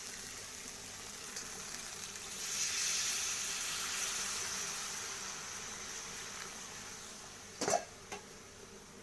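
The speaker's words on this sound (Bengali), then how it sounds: "জল অ্যাড করব।" Water goes into a simmering curry of raw fish and green tomatoes, a soft hiss swelling and then fading while it settles into a quiet bubbling, followed by a couple of sharp knocks near the end.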